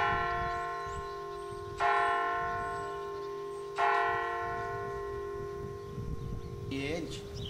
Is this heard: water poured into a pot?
no